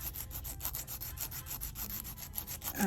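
Fingernails being filed during an at-home manicure: a steady run of quick, rhythmic rasping strokes, close and fairly even in loudness, with no talking.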